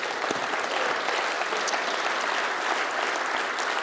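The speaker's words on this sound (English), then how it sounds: "A warm round of applause for the participants" Steady round of applause for participants at a fisheries and ocean dialogue on the sustainable blue economy, many hands clapping evenly and close for a few seconds with no voices.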